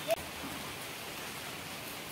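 Steady rain falls continuously, an even, unbroken hiss of moderate loudness with no voices and no distinct drops standing out.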